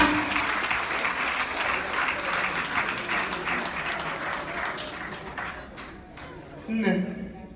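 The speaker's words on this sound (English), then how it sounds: "Please, give a big round of applause to Nnamdi" A town hall meeting audience in Houston breaks into a sustained round of applause, dense clapping that gradually thins before a voice comes in at the end.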